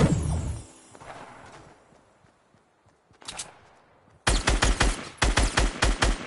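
Rapid bursts of automatic gunfire in a Fortnite Battle Royale match, starting with a loud shot, then a short volley and finally a steady string of close, punchy rounds fired in quick rhythmic clusters.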